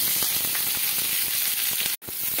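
Chopped onion and two green chillies tipped into hot oil already popping with mustard seeds, a steady close, loud hiss of frying with faint crackles, briefly cut off for an instant near the end.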